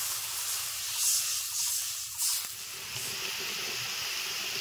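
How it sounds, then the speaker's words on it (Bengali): Cabbage curry with added water and potatoes in a pot comes up to a boil, a steady soft hiss and seething bubble with a faint brief knock partway through. "দেখো টকবক করে ফুটতে শুরু করে দিয়েছে।"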